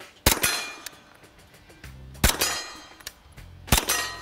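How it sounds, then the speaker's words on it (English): Three loud, sharp metallic clangs spaced about 1.5 seconds apart, suppressed pistol rounds striking a steel target at an outdoor range, each hit ringing briefly with a low hum between impacts. "I got to come off the target because the steel's making too much noise again."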